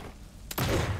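A gunshot in the video game For the King 2, a single loud burst about halfway through that cuts in abruptly and is followed by rumbling game noise.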